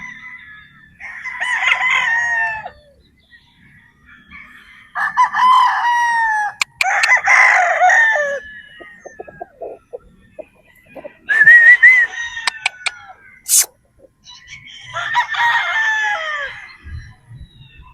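A Boston Roundhead rooster crows several times in separate bouts, each a loud, close, drawn-out call with short pauses between, alone without talk.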